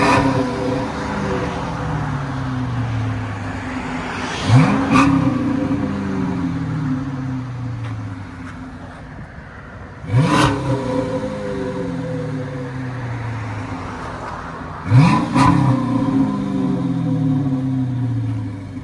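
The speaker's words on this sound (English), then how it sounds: "You guys want that hollow, nice deep tone? Go with the Flowmaster Super 10." A Chrysler 300C with a 5.7-liter HEMI V8 and Flowmaster Super 10 exhaust revs hard three times. Each sharp blip rises and falls back to a deep, steady, rumbling idle, all loud and close by.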